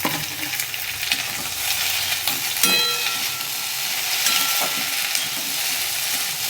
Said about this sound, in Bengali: তেলের সঙ্গে হালকা ঢ্যাঁড়সটাকে অল্প ভেজে নেব